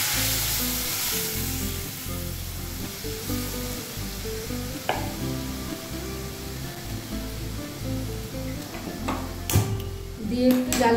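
Dal being poured into a hot pan for a Bengali restaurant-style sambar sizzles and crackles continuously and loudly, with occasional clinks of a utensil against the pan near the end.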